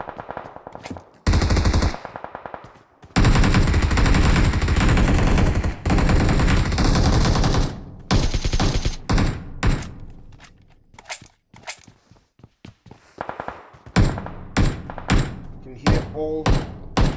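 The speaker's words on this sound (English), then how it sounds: "Hear all sorts of bullets going out. You can hear the AKMs, the M416s." AKM and M416 assault rifles firing in a PUBG-style esports match, loud sustained automatic bursts and rapid overlapping volleys broken by short pauses, with a commentator talking over the gunfire.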